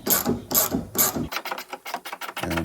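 A ratchet on an extension loosens a 10 millimeter horn bolt on a GMC Terrain or Chevrolet Equinox; three loud clicking strokes are followed by a quicker run of lighter ticking pawl clicks, close by.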